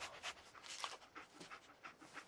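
Dogmeat, the dog companion in Fallout 4, pants in quick rhythmic breaths, close and fairly soft, with a steady repeating in-out pattern and nothing else over it.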